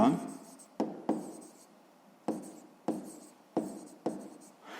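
A pen scratches an equation onto paper in a series of brisk strokes, six or so separate bursts with short gaps, soft and close by.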